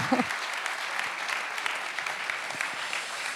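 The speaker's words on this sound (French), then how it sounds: "Ouais, on peut l'applaudir, c'est vrai." An audience at a conference at a national ski and mountaineering school applauds a champion skier, steady, fairly faint clapping from a roomful of people running throughout.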